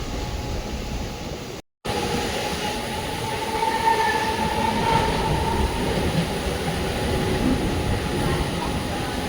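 Mumbai AC local train on the Panvel–Dadar run, heard from inside the carriage: a steady, loud rumble of wheels and motors with a faint high whine, briefly cutting out for a moment before resuming.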